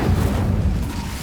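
Incendio fire spell bursting in Hogwarts Legacy, a short loud whooshing roar with a dense low rumble that holds for about a second before easing off.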